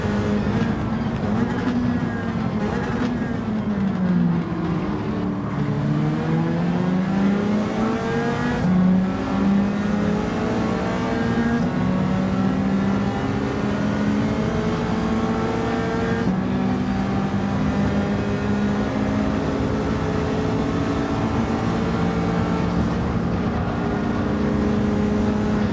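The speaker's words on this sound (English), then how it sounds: "Got a fast charging McLaren behind me." A McLaren race car engine in a racing video game drones loudly and steadily, its pitch sweeping down and up through gear changes and passes, with no talk over it.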